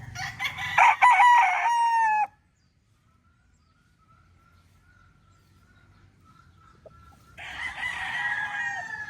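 A young Raptor Sweater gamefowl stag crows loudly and close by. A quiet stretch with only a faint distant bird follows, then a second crow begins near the end.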